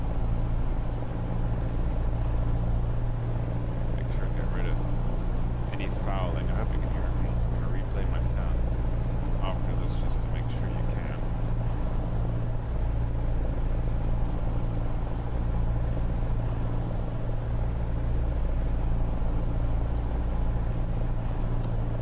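A propeller aircraft engine runs up to about 1,800 RPM in Microsoft Flight Simulator 2020, a steady loud drone with strong low harmonics throughout, with a voice talking over it at times.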